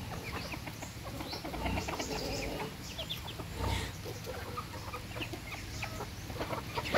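Native and kabir chickens clucking in a farmyard at feeding time, a steady scatter of small clucks and calls at moderate distance, with no talk over them.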